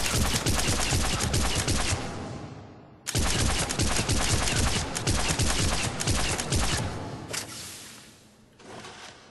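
Arc Pistol firing in Mass Effect 3 at short range from the hip, two long loud runs of rapid crackling shots broken by a brief gap, then a short final burst.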